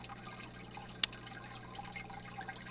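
Water runs steadily during a water change in an aquarium simulator game with a discus tank and plants. The wash of liquid is even and continuous, and one sharp drip or splash lands partway through, with no talk.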